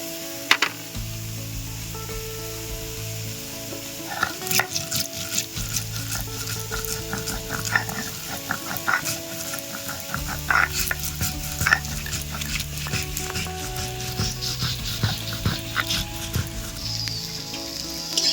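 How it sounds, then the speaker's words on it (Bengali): Okra sizzles in a pan while a spatula stirs and scrapes repeatedly, metallic clinks scattered throughout; no talking. "আমার ভেন্ডিটা একটু ভাজা হয়ে গেছে"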